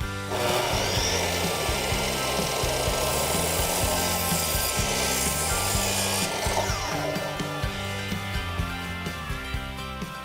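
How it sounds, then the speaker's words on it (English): A utility knife scores straight across the grain of a wood board against a square edge, making a loud, close, continuous scraping and sawing rasp that holds steady for the whole stretch without any voices. "we'll take a utility knife and a square edge and just cut straight across the grain"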